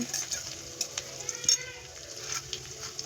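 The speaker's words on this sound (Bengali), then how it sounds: "মাছগুলো ভেজে রাখার পর পেঁয়াজগুলো ভাজা হচ্ছে, দেখো" Onions and potatoes frying in a pan after fish, with a soft, fairly faint sizzle and a few light clinks under background voices.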